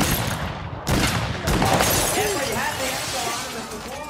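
Gunfire and shattering from a film shootout scene between robbers and agents, a burst of sharp cracks and breaking followed by a noisy rumbling bed, with voices heard over it.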